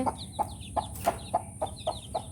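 Newly hatched young chicks at a rural Bangladeshi home cluck and peep in a quick, regular series of short calls, close and clear, with no talking.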